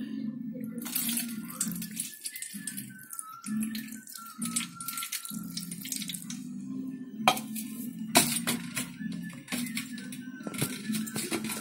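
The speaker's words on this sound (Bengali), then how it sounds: "এখন ওকে স্নান করাবো।" Water is poured and splashed over a small Gopal idol during its bath, with intermittent close pours and trickles broken by short pauses, plus faint clinks of a vessel.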